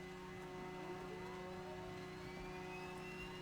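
Right turboprop engine of a DHC-6 Twin Otter starting up in Microsoft Flight Simulator, a steady whining drone with rising tonal spool-up lines over a continuous low rumble, close and constant throughout.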